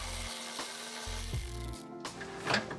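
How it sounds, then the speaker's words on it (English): A 10mm socket ratchet loosens the bolts on a 2015-2020 Subaru WRX STI upper bumper reinforcement bar, close-up clicking and grinding bursts in quick succession with clunks between them. "we're going to remove 5 bolts holding the upper bumper reinforcement bar with a 10mm socket"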